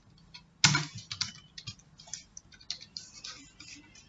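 Keys clack on a computer keyboard while Python code is typed: a sharp first burst, then irregular quick taps in short clusters, close and clear, with no one speaking.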